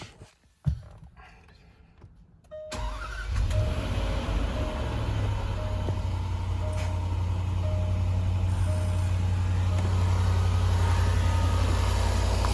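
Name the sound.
Dunlop air suspension compressor running, Range Rover Sport L320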